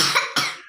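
A child sick with a cough at home gives two short, close coughs in quick succession, the second slightly harder than the first, with nothing else heard.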